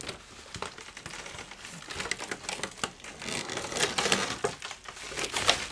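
Plastic wrapping and bubble wrap around a figurine crinkle and crackle as it is unwrapped, with irregular close rustling and small popping snaps continuing steadily.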